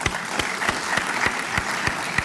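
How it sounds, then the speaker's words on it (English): An audience at an evening event claps, a thinning round of applause with distinct individual claps sounding in a loose rhythm, close and fairly loud. "Another round of applause to both Tim and Michael Morgan."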